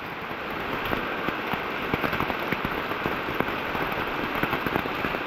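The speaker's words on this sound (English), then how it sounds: "And it's still raining." Rain falls on a forest hiking trail near Secret Falls in North Carolina, a steady patter with close, scattered drops tapping sharply on nearby surfaces.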